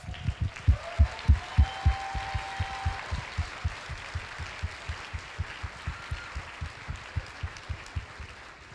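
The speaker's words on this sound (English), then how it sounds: "Can we give him one more round of applause?" An audience at a school board meeting gives a round of applause for a student performer, heard as a steady run of distinct claps that fades slightly and continues evenly, with a brief tone early on.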